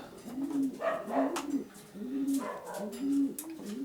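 Racing pigeons shut in breeding boxes coo close by, a steady sequence of soft, rising-and-falling coos repeating every second or so with several birds overlapping.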